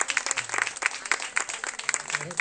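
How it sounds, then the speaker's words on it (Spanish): Audience applause for an author at a novel presentation, a dense, steady patter of many hands clapping throughout, moderately loud and close, with no voices over it. "pues un aplauso a Víctor"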